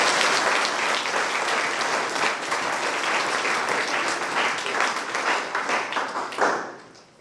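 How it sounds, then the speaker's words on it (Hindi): Hearty applause from a crowd at a Holy Mass and inauguration ceremony, many hands clapping steadily before thinning out and fading near the end. "आइए हम लोग विश्व स्वामी के लिए और जो भी डोनर है उनके लिए जोरदार तालियों के साथ हम लोग धन्यवाद"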